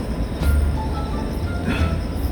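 Subway train running in Korea, a steady rumbling rail drone with occasional wheel and car noises, heard from inside the carriage at a constant loud level.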